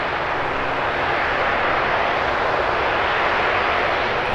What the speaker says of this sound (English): Big 4-engine prop aircraft used by the National Guard, United States Army, United States Air Force.